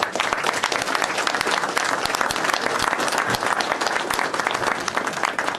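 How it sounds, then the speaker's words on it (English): Council meeting audience giving a round of applause, dense sustained clapping at steady loudness that carries through the whole stretch with no talk over it. "Let's give them another round of applause."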